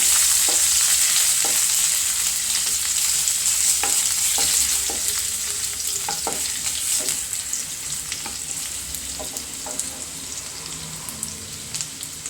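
Crushed ginger and garlic with onion fry in hot oil in a pan, giving a loud, steady sizzle that slowly fades. A spoon knocks and scrapes against the pan at irregular intervals, and no one speaks.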